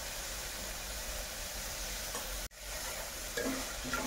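Spinach khichdi with turmeric is stirred in a hot pan, a continuous sizzling hiss with soft scraping, steady and close, broken by a brief pause near the middle.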